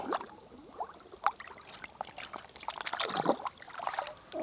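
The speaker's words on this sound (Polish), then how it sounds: "Nabierzemy brudną wodę z rzeki do bukłaka." Dirty river water trickling and gurgling into a water bladder, close and soft, with uneven pouring surges and small splashes.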